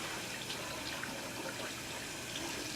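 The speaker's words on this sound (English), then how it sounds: "when you're rinsing your hands, you rinse one at a time, not together" A tap runs steadily into a sink while hands are rinsed, a soft even hiss of flowing water, fairly quiet and without speech.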